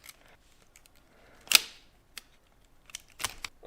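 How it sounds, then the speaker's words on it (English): Someone pries open the shell of a PS5 controller with a small plastic piece, and its clips let go in sharp, close clicks and snaps. One loud crack comes near the middle and a few more follow toward the end. "I was able to take this little piece and place it into the side here and then create some separation and then open it"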